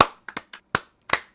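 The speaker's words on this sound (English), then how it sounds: "Clap it up for Nat." A few sharp, separate hand claps for a graduate named Nat, close and irregularly spaced, with quiet gaps between them.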